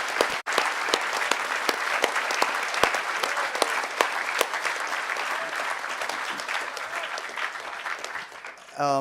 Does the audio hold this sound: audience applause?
yes